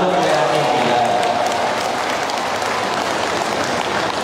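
Senior citizens at an annual thanksgiving gathering clap loudly together, a dense, sustained burst of crowd applause filling the space with murmuring voices mixed in.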